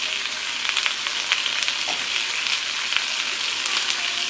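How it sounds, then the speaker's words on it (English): Shrimp and snow peas sizzle in a hot pan with garlic powder, a bright continuous frying hiss broken by frequent sharp crackles and pops, heard up close with no voices. "And let's add the snowpeas. And let's add the garlic powder."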